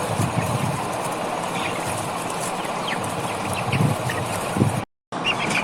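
Small flock of two-month-old backyard chickens clucking and calling in scattered bursts over steady background noise, with a short gap near the end.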